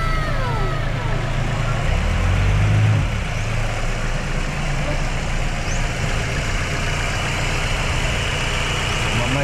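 A 2.3-litre Ford Escape engine idles steadily after being stored for two years, a low continuous rumble running throughout, loudest briefly early on, with no one speaking.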